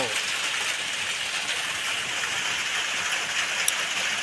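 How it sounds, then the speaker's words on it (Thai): Steady, heavy rain with wind pours down in a continuous wash of hissing patter, close and even from start to finish. "ฝนตกมาแล้ว"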